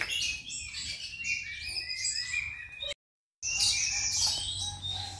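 A caged red-eyed songbird in a tiered cage chirps in bright, rapid bursts of tweets, fairly close, with a brief silent gap midway and no voices.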